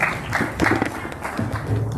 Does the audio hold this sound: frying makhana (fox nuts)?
no